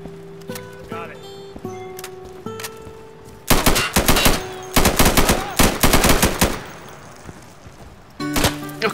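Loud machine-gun bursts and rapid gunshots crack out in clustered volleys during an Insurgency video game firefight, with voices talking between the bursts.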